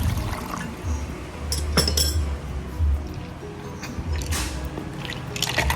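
Ice cubes dropped into lychee juice, several sharp close clinks and rattles against glass or a jar, spaced irregularly over a background of liquid and handling noise.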